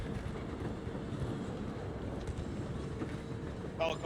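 A train rumbles steadily through a Call of Duty match, a continuous low, dense roar with a brief louder clatter near the end, while players can be heard talking over it.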